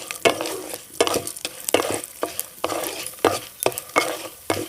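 Black mustard seeds and chana dal fry in ghee with a bright crackling sizzle, punctuated by repeated rhythmic spoon scrapes against the pan, close and clear with no speech.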